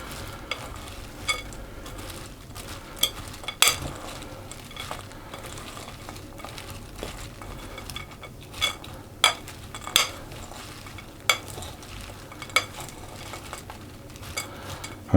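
Mixed fruit for a Christmas cake being stirred in a bowl, a steady soft churning with repeated clinks and knocks of the spoon against the bowl, close and without talk.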